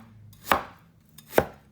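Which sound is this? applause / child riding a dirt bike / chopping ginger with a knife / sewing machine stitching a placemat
chopping ginger with a knife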